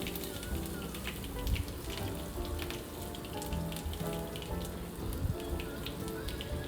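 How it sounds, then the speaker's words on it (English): Spices spluttering in hot oil for a Maharashtrian tendli masale bhat, a dense steady crackle and patter of popping droplets running throughout at moderate level, with no voices. "As soon as it starts to splutter, add in the aromatics"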